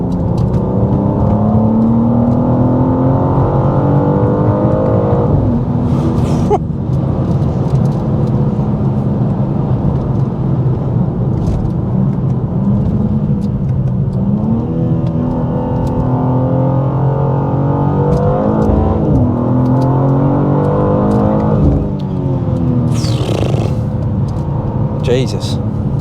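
BMW G87 M2 accelerating hard, a loud, continuous deep engine and induction drone rising through the revs with a few brief gear-change breaks, heard from inside the car.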